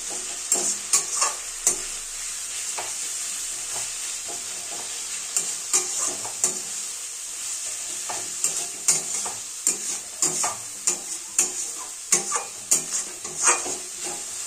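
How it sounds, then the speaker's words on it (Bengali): Ginger, garlic and chilli pastes stir-frying for chicken, a bright continuous sizzle broken by frequent rhythmic spatula scrapes and taps against the pan, close and fairly loud throughout. "এবার সমস্ত উপকরণ খুব সুন্দরভাবে মিলিয়ে মিশিয়ে নেব এবং ধীরে ধীরে এটা কষতে থাকব"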